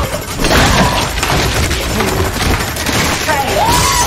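Gunfire from a handgun in a reacted video plays as loud, dense bursts of shots across the whole stretch, mixed with shouting voices and a commentator talking over it.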